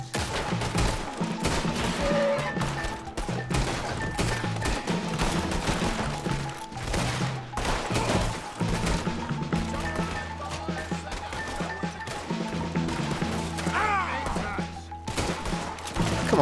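Red Dead Redemption 2 gunfight with rapid, repeated gunshots cracking throughout, dense and continuous bursts amid game ambience.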